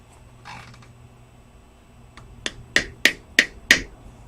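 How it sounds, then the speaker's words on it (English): Five sharp hammer blows, the last four evenly spaced, drive a finely tapered steel point into the rear axle input oil seal of an MGB, close and loud after a quiet stretch with a faint scuffle early on. "pound this finely tapered point in, let's say there. Pound that in with this pounding hammer."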